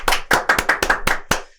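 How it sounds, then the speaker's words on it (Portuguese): A studio audience claps for a pastor guest on a church podcast, a short burst of about eight sharp, close handclaps in an uneven rhythm that stops abruptly. "Palmas para ele, gente."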